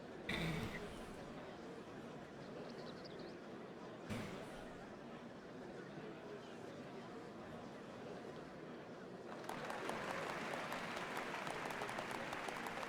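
Crowd applause in a Final Fantasy XIV Dawntrail cutscene at a ceremony changing servants, steady clapping across the scene that swells louder and brighter near the end, with no speech.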